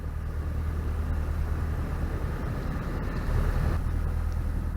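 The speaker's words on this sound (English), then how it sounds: "There's another narrowboat right up my exhaust pipe" A narrowboat engine on a canal drones on throughout with a steady, low rumble, a constant deep throb and water-vehicle hum, no voices.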